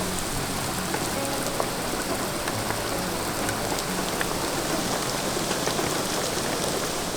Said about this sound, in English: yet another storm crossed into our path, and as we parked up for the night, released its full payload of rain